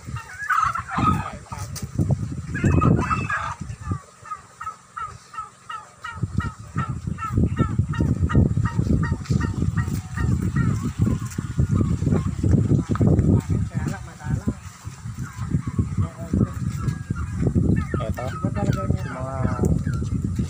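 Turkeys and other fowl gobble and cluck over and over on a farm, close and fairly loud, while people talk throughout.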